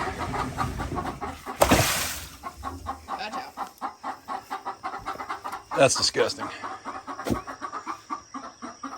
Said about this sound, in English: They're chickens, they're fine.